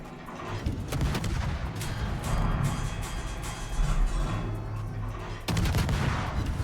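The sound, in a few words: warship guns firing in naval video game World of Warships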